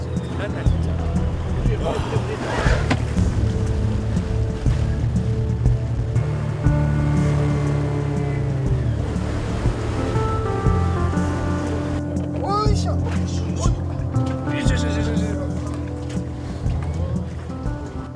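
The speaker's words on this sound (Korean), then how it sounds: "파도가 많이 치는 바람에 카메라도 물을 먹었습니다." Rough sea waves slosh and crash around a boat on a long open-water swim toward Dokdo, a continuous churning roar with splashes, while people talk over it.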